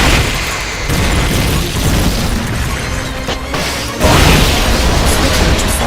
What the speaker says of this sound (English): One unit firing rocket launcher.